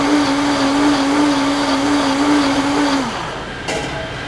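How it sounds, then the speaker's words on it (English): A blender whirs steadily, puréeing onion, garlic and ginger into a sauce, with a loud constant motor drone that winds down near the end before a brief clatter. "Now we're gonna send it through the blender, just get all those onions, garlic, ginger all finely blended into the sauce."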